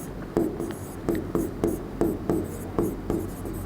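Chalk writing on a board in a physics classroom, a rhythmic series of sharp taps and short scratchy strokes about twice a second, close and clear, with no speech.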